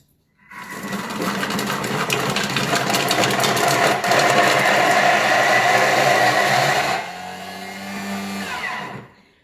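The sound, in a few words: Thermomix TM6 blending mango and oats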